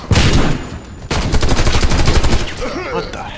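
Loud gunfire in the shooter Warface, a dense, sustained stream of rapid shots after a short blast, with a faint voice underneath toward the end.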